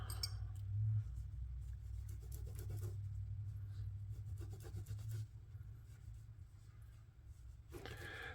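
A microfiber cloth wipes a QSP Kestrel pocket knife and its pocket clip, producing faint, soft rubbing strokes over a low, steady background hum.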